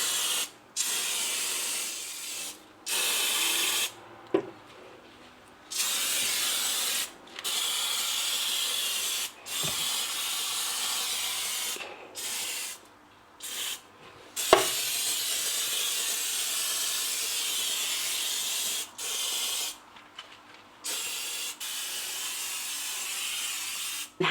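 Repeated bursts of an oven cleaner spray bottle hissing, about a dozen short and long sprays separated by brief pauses, close and fairly loud.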